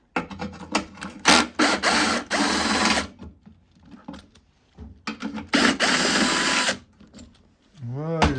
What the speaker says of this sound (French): on va prendre la visseuse